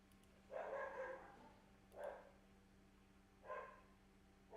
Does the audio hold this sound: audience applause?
no